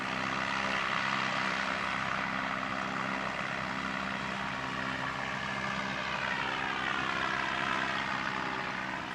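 A small propeller aircraft runs its engine at Christchurch Airport, a steady loud drone with a rising whine toward the end as it prepares to depart, heard alone without talk.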